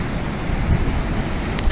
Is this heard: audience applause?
no